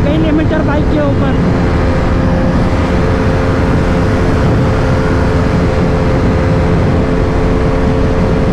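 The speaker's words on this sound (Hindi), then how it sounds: "आ गई लिमिटर बाइक के ऊपर।" A KTM RC200 sport bike revs hard against its rev limiter during a street race with an R15 V3, giving a loud, steady engine drone that persists throughout amid traffic noise.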